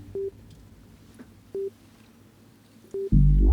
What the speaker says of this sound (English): It sounds like almost like one of these telephone sounds.